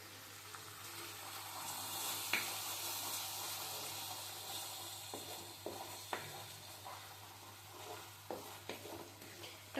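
Ginger garlic paste stirred and fried in a pan, a soft steady sizzle with occasional scraping clicks of the spoon, fairly quiet and without talk.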